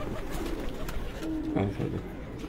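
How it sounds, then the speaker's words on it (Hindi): Ferozpuri pigeons at a pigeon-flying event coo softly amid background chatter, with a brief cooing call standing out near the middle over steady ambient noise. "फिरोजपुरी कबूतर जी।"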